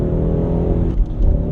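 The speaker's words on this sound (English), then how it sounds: "by the sound this car makes, that this is a Ford Mustang V8" A Ford Mustang GT V8 engine rumbles loudly and close by, holding a deep, steady revving drone throughout with a slight surge near the end.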